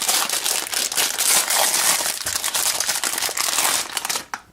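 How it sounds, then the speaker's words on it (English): Plastic wrap being peeled off an Amazon Fire TV game controller, a loud, close, continuous crinkling and crackling for about four seconds that cuts off abruptly at the end. "Let's peel off the plastic."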